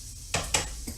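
A spoon knocking and scraping in a pot of linguine, two sharp clanks close together and a softer knock at the end, over a low kitchen hum.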